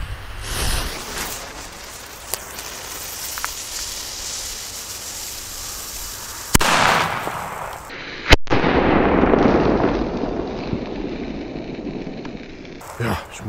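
A DumBum Black Edition PB120D firecracker goes off outdoors with a couple of sharp, loud bangs that rise above steady background noise and are followed by a lingering hiss and crackle.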